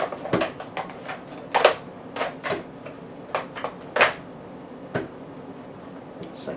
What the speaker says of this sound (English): then you just fold down his legs